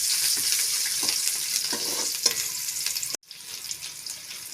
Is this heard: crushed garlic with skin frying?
yes